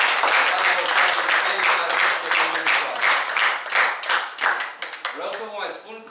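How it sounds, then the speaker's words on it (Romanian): Audience applause at a book launch event, dense clapping from a seated crowd that swells then thins into scattered claps, with voices emerging near the end. "Haideți să o aplaudăm din toată"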